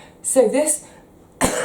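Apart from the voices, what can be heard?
cough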